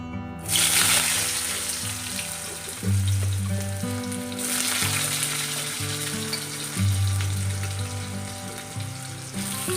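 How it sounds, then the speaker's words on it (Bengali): Potatoes frying in hot oil in a Bengali home kitchen give a loud, steady sizzle that starts abruptly and continues throughout, over a bed of tonal background music. "তেল গরম হয়ে গেছে আলুগুলো আগে ভেজে নেবো"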